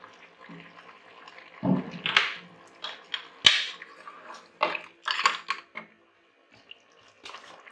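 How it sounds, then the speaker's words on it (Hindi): Cooking oil is poured into a pot of Bahawalpuri-style beef trotters, making short, close splashy gurgles in uneven bursts with quiet gaps between. "अब इसके अंदर हम ऑयल डालेंगे।"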